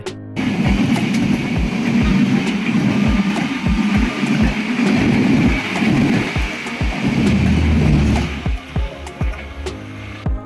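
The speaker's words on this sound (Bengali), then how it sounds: "মুলাডুলি স্টেশনে এসে ট্রেনটি আরেক দফায় ক্রসিংয়ে পড়ে বাংলাদেশ ভারত চলাচলকারী ট্রেন মৈত্রী এক্সপ্রেসের সাথে" The Drutojan Express rumbles along the rails at Muladuli station while crossing the Maitree Express, a loud, continuous roar with regular heavy wheel clacks that thin out toward the end.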